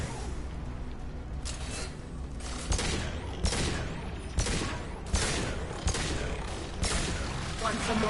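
Handgun fire in Mass Effect 2 combat, a run of sharp gunshots spaced about a second apart over a constant roar of battle noise, with a voice speaking among the shots.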